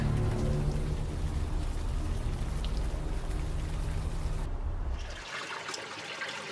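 Steady rain hiss in the video game Unavowed with watery trickling throughout, dropping to a quieter, thinner patter for the last couple of seconds; no voices.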